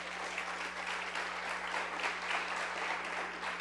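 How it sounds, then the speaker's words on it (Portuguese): Church congregation clapping steadily throughout, a dense, even patter of many hands heard at a moderate distance with a faint low hum beneath. "Quantos podem aplaudir em nome de Jesus?"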